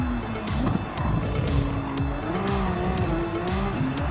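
Genesis X VGT race car in Gran Turismo 7 braking hard into the Monza chicane, engine note dropping through downshifts as tires squeal steadily, loud and close throughout.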